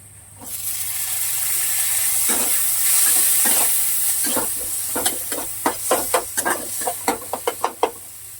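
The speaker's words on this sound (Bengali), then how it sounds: "পেঁয়াজ কুচিটা একটু হালকা ভাজা ভাজা হোক।" Chopped onion, with tomato going in, fries in a pan for chicken biryani: a loud hiss swells in, holds steady, then gives way to a run of sharp clattering stirs and taps.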